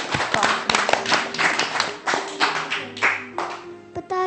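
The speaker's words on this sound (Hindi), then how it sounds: "तालियां बजाओ।" Scattered children clapping their hands in a classroom-style gathering, a burst of uneven, sharp claps close by that thins out to a few separate hand slaps near the end.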